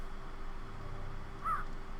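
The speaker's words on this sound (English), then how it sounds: "Birds." A single crow-like caw calls once partway through, fairly distinct over a steady low ambient drone in a Minecraft-style modded game world.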